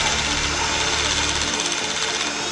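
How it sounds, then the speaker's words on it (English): A mini cutter drills a 4mm hole about 3mm deep into a metal plate, giving a steady, loud, rattling mechanical whir with a close vibrating drone that eases slightly near the end. "we're about to drill some holes with a mini cutter"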